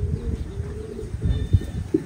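An American giant pigeon coos softly and steadily to its mate in a nesting box, low and close, with no talk.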